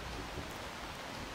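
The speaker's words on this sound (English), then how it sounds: "we're getting rained on hard right now" Heavy rain pours steadily in the video game Skyrim, a dense, even hiss of drops falling on surfaces with no breaks, close and continuous throughout, with no voices over it.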